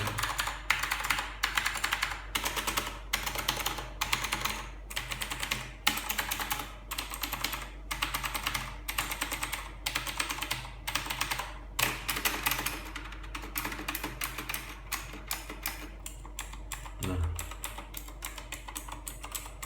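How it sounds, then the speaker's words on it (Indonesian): Mechanical keyboard keys typed in steady rapid bursts of clacking keystrokes, close and fairly loud, running alone with brief pauses between runs. "suaranya setiap keyboard itu beda-beda suaranya per setiap keycaps"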